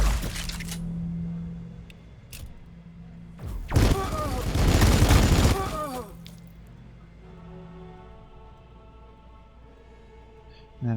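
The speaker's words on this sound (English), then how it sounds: "Firing cannon." Cannon fire in the strategy game Warhammer Battlesector: a loud burst of heavy booming blasts and crashing impacts lasting about two seconds, set against low game ambience and scattered softer effects before and after.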